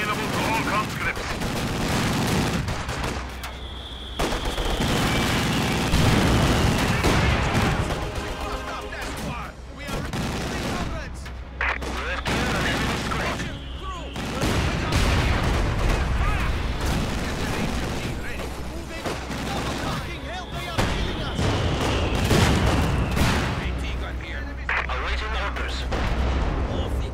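Dense, continuous battle din from the strategy video game Company of Heroes 2: rapid gunfire bursts and heavy artillery blasts pound without pause, with brief voice lines from game units in the mix.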